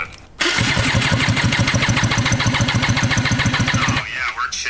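Jet ski engine built from scratch cranks and fires up, then settles into a loud, steady, throbbing idle with a fast even pulse, close up, with brief voices at the end.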